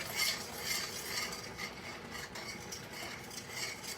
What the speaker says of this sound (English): Add some more, stirring it all along, because if you don't,